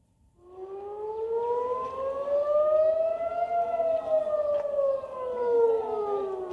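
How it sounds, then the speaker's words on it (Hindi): An air raid siren in Tel Aviv wails steadily, its tone slowly rising and falling, heard loud but somewhat distant over faint background noise. "तेल अवीव में सायरन की आवाज सुनी गई"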